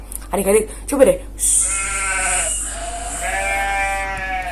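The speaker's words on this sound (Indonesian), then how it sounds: "Iya, suara kambing domba." A goat or sheep bleats loudly and steadily for about three seconds, following a short burst of speech at the start, during a children's Sunday school service.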